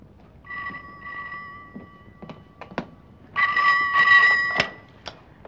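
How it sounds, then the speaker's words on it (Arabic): An old telephone rings in two bursts of bell tone with a pause between, set in a quiet room with a few small knocks and no talk. "تليفون."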